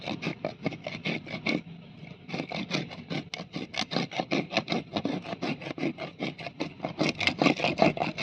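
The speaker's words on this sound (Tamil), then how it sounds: "இந்த நாரெல்லாம் உரித்து எடுத்துட்டு நீ இந்த நல்லா தேய்ச்சி எடுத்துக்கலாம்" Rapid rhythmic rasping of a coconut husk being rubbed to strip away its fibres, close and loud scraping strokes in quick succession with a brief pause near the start.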